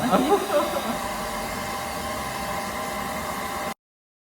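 A hair dryer blow-dries long hair with a fresh C-curl perm at home, a steady close whooshing roar that stays even for several seconds and then cuts off abruptly.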